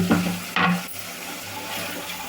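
Cluster beans and tomatoes being stirred and cooking in a pan: two brief scraping bursts of a spoon, then a soft, steady simmering hiss, with no talking.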